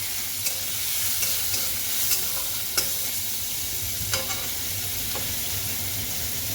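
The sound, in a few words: onion, garlic and tomato frying in pan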